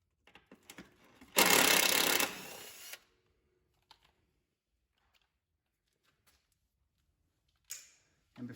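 A Makita 12-volt 1/4-inch power driver makes one loud burst of whirring that lasts about a second and a half, then tails off. It comes between light clicks and handling noises during an ABS wheel speed sensor job on a 1999 Acura CL 2.3.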